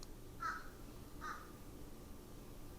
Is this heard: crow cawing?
yes